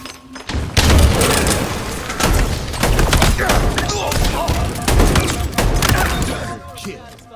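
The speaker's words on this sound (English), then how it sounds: "Grenade out!" A grenade blast and rapid gunfire from the video game Halo Infinite, with a heavy boom near the start followed by continuous loud bursts of shots and impacts throughout.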